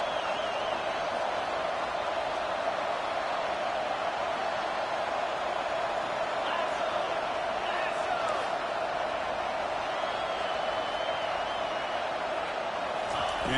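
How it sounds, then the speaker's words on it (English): Stadium crowd roar from the video game College Football 25 as fans get loud for a red zone defensive stand, a sustained wash of noise under a commentator's voice. "And here comes the noise. This crowd is trying to inspire this defense to make a big red zone stop."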